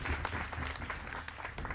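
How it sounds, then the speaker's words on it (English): Crowd applause at a Tonga village show at the Polynesian Cultural Center, a soft, distant-sounding wash of clapping with low rumble beneath. "Why don't you give yourself a round of applause,"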